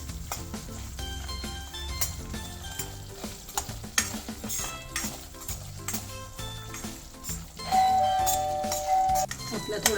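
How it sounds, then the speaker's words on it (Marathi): Semolina and dry fruits roast in ghee while being stirred, with a soft sizzle, scraping and clinks over steady music, and a voice talking throughout. "रव्याबरोबर ड्राय फ्रुट्स पण चांगले तुपात भाजून घ्यायचे।"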